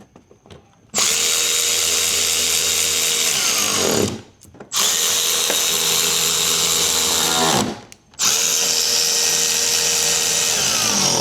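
A power tool drives in the side bolts that hold the bumper and wheel liners on a Chrysler Pacifica Hybrid. It whirs loudly and steadily in three long runs, each separated by a brief pause, with no talk.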